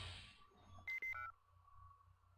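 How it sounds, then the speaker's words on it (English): Computer terminal in the space game Space Griffon VF-9 gives a few sharp electronic beeps in quick succession, followed by a lingering steady tone over a low background drone. "Beep-beep-beep. Ah, the terminal's working."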